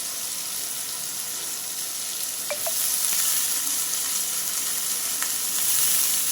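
Shredded cabbage tumbles into a pan of sizzling spiced potatoes with melted tomato for a vegetarian cabbage ghonto, the steady frying hiss swelling louder after a couple of soft clinks, with no talking.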